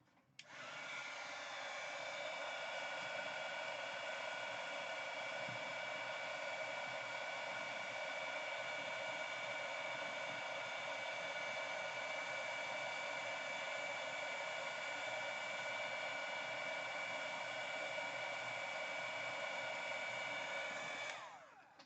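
Embossing heat tool blowing hot air to melt embossing powder, a constant loud whooshing hum with a steady whine that runs unbroken for about twenty seconds, starting and stopping cleanly, with no talking.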